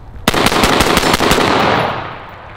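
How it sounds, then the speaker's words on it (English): A rifle fires a rapid burst of about seven loud, close shots in quick even succession outdoors, and a long rumbling echo fades away afterward. "that's the flattest shooting rifle you'll ever see."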